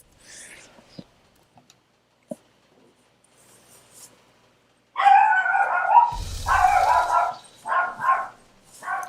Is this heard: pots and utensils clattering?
no